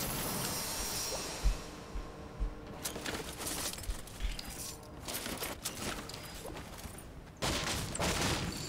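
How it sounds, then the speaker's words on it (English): Gunfire in the video game Fortnite during a duo cash cup battle royale match, with a string of sharp shots and bursts spread irregularly over several seconds, close and loud over steady game ambience. "Me shooting."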